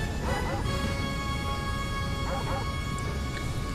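A Chain Chomp enemy in the video game Super Mario Galaxy yaps in short bursts of muffled, clenched barks over steady game music, fairly loud and close.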